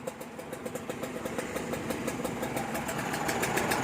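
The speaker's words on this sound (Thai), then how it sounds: "โอเคฟังเสียงเครื่องก่อนนะครับ" Steady motorcycle engine idling close by, a continuous low rumble with a regular pulsing beat and no voices.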